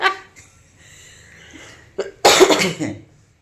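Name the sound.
coughing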